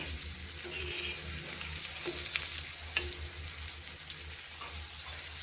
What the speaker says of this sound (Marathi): बाकीचे मासे आपण अशाच प्रकारे फ्राय करून घेऊया